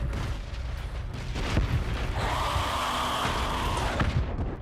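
Explosion in the shooter video game Trepang2: a deep rumbling boom with thundering low roar that lingers, followed by a ringing tonal whine and more muffled rumbles, no speech.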